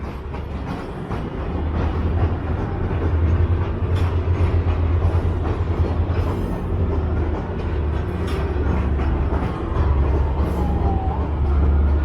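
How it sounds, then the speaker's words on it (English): A GO commuter train heading into Union Station rolls past with a heavy low rumble and clacking wheels, steady and loud throughout, with a faint squeal partway through. "And it's a GO train heading into Union Station."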